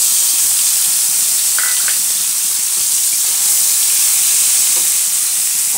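Onion and garlic paste sputters in hot oil left from frying fish, a loud continuous sizzling hiss with a few faint clinks, steady throughout and without speech.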